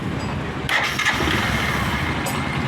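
Bajaj CT110 BS6 motorcycle with a carburetor fault that keeps it from holding idle, heard as a steady close-up engine drone with a slight surge partway through and no talk.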